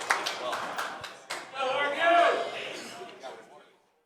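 Crowd at a 2019 Northwest Cup table tennis doubles match breaks into scattered clapping that swells into steadier applause near the middle before fading, heard at moderate distance with commentators talking over it.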